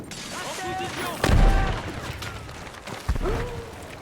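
Grenade explosion and gunfire in the Battlefield 6 video game, a heavy boom followed by a second thump amid sporadic shots, with voices talking over the action.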